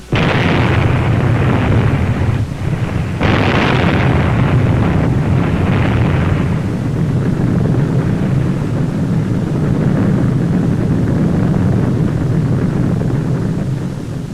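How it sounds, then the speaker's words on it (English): Atomic bomb test blast over ships at sea, dropped from a B-29: a continuous loud roaring rumble with a sharp burst near the start, heavy low-end boom sustained throughout without speech. "a B-29 dropped an atomic bomb over the ships"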